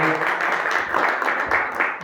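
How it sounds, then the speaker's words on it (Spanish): An audience at a comics presentation at the Instituto Juan Gil-Albert of the Diputación de Alicante applauds in a dense, steady wash of clapping that holds for about two seconds. "Un aplauso a Cristina Martínez"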